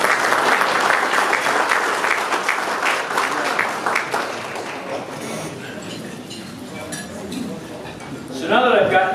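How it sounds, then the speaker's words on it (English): Banquet audience at a 50th anniversary celebration applauding, a dense, steady wash of clapping from many hands that gradually thins and softens, with a brief burst of sharper claps near the end. "we owe a round of applause for our team for putting this together"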